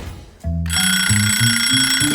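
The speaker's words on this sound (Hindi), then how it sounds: "ओह, अलार्म! क्या हुआ?" An alarm goes off in a home kitchen, a bright electronic ringing of rapid repeated beeps stepping upward in pitch, loud and close, sounding alone with no talk.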